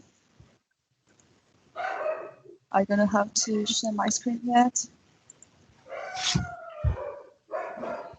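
A dog barks in short bursts somewhere in the home during an online community meetup, mixed in with a person speaking nearby.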